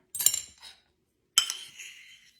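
Metal spoon clinks twice against a bowl while deviled egg filling is mashed, two bright, close strikes about a second apart, each followed by a short scraping ring.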